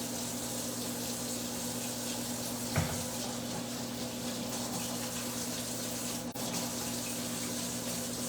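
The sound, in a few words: washing hands under a running kitchen tap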